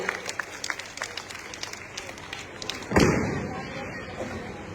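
Rally crowd bursting into loud applause and cheering about halfway through, following a stretch of scattered claps and thumps with a voice over a public address system, then fading.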